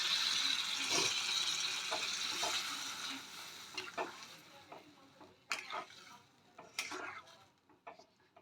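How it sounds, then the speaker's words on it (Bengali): Water pours into a pan of sizzling potato and spice masala for a katla fish curry, a loud hiss that fades over several seconds, followed by scattered clinks and stirring knocks of utensils against the pan. "আলু দিয়ে আমাদের মশলাটা কষে গেছে। এবার আমরা জল অ্যাড করে দেব।"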